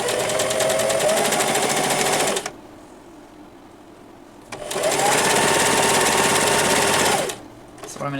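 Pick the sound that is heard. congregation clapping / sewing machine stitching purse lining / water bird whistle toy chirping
sewing machine stitching purse lining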